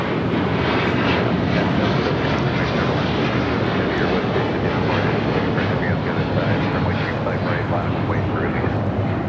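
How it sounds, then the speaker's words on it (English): A Qatar Airways Airbus A350-1000 takes off at LAX, a loud, continuous broadband jet roar sustained throughout, with voices talking over it. "taking off to Doha on the A350 1000"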